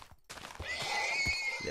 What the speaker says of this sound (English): Oh, that's a baby horse.